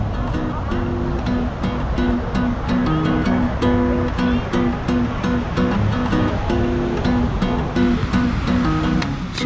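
Waves roll on Copacabana Beach in Rio de Janeiro, a continuous close surf wash with crowd murmur and faint repeating tones layered over it, holding loud and steady without a clear break.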